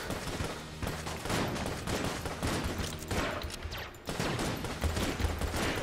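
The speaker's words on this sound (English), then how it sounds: "Everything needs to stop shooting at me." Constant gunfire in the video game Enter the Gungeon as enemies shoot at the player, a dense, loud barrage of rapid shots and bullet impacts under game music with no pauses.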